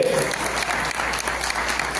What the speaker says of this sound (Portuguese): Você pode aplaudir o Senhor pela vida, Isabel, amém?